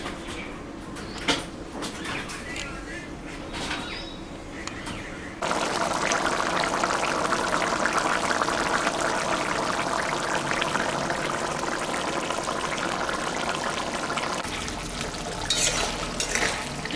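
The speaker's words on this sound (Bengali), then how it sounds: "তরকারিটা কষানো হয়ে গেছে, আমি এখন সামান্য একটু জল দেব।" Water is poured into a pan of simmering fish-head and elephant-foot-yam curry, a steady broadband splashing hiss that starts abruptly and runs loud and close for about nine seconds before easing into quieter cooking sounds.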